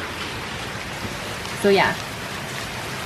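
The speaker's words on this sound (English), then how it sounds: "Oh, I gotta get out of this rain." Heavy rain pours down on flooded roads with a steady, dense hiss close to the microphone, and a person briefly speaks over it.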